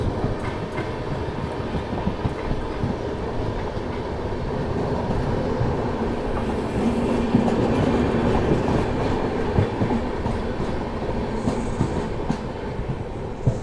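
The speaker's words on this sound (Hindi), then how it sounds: "Jammu Tawi Ajmer superfast express." The Jammu Tawi Ajmer Superfast Express rolls along at speed near Rajgarh in India, with a continuous rumble and rhythmic clickety-clack of wheels over rail joints heard from on board, steady throughout with no talking.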